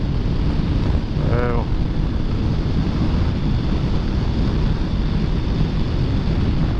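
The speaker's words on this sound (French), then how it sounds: "il y a un peu de vent, mais normalement vous devriez pas trop l'entendre" Constant wind buffeting an outdoor microphone beside a 2004 Honda CBF 600 S motorcycle, a loud low rumble that never lets up, with a brief faint warbling tone partway through.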